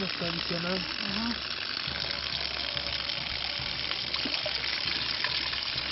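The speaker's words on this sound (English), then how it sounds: "we use the siphon, and we start by filling" Water gurgles and trickles steadily as a siphon fills. The sound is close and continuous, with small mechanical clicks mixed in. A voice talks briefly near the start.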